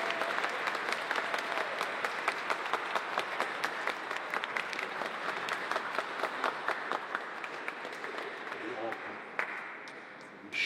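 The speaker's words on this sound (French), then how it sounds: "on peut s'applaudir les uns les autres" A congregation inside the Basilica of Marienthal applauds during a Mass, steady dense clapping that carries on for several seconds with a reverberant church sound before tapering off near the end.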